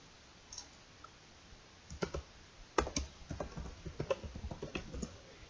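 Keys clack on a computer keyboard as a folder name is typed, a quick irregular run of close, quiet clicks that grows busier after the first couple of seconds, with no talking.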